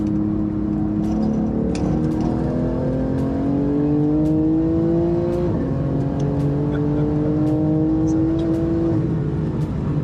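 A very fast car on road tires accelerates hard, its engine note climbing in long rising sweeps through the gears, loud and sustained with steady road roar underneath.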